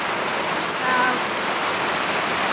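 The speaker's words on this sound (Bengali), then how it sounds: "বৃষ্টি তো সব শুরু হয়ে গেছে শব্দ হচ্ছে প্রচুর বেগে" Steady, dense rain hissing continuously, a constant broadband wash with faint tonal chirps briefly in the middle.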